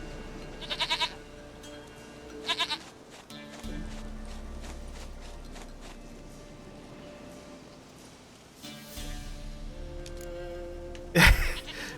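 A goat bleats in the video game The Witcher 3: Wild Hunt, with two short wavering bleats near the start and a shorter cry near the end. Ambient game background sound runs throughout.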